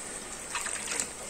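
Warm water with fine salt dissolved in it is poured into a bowl holding a cracked egg, a brief soft splashing gush lasting under a second, faint and close.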